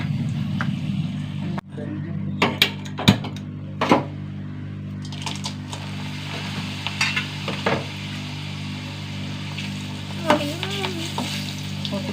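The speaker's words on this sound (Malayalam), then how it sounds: "പപ്പടം കാച്ചാണ്" Steady sizzling of papadam frying in hot oil runs throughout, punctuated by sharp clinks and scrapes of a utensil against the pan.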